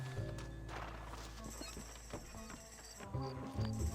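Horses gallop in the Western video game Red Dead Redemption, a steady clip-clop of hooves close by with whinnies and neighs, running alongside a rumbling wagon that carries TNT, with music and game sound underneath.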